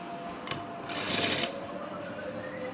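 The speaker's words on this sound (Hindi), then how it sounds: "बॉर्डर को उसके ऊपर रख के सिलाई लगाएंगे" A sewing machine stitches a border onto a sleeve, a faint steady whirring run with a slightly louder stretch in the middle and no talking.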